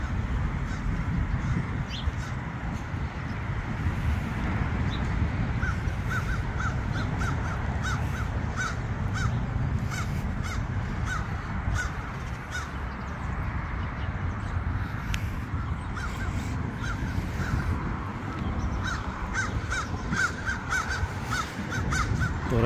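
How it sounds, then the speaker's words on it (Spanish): Crows caw from a distance among trees at Langley Park, with scattered repeated calls over a steady, broad outdoor background noise for the whole stretch. "Ahí se escucha el canto de los cuervos,"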